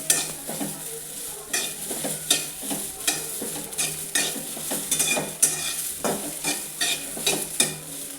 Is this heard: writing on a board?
no